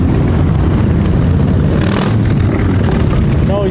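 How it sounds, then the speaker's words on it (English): Loud motorcycle engines rumble and rev continuously close by along a riverside town front in Bewdley, with a brief rising whine near the end. "There's a lot of motorbikes all along the front there."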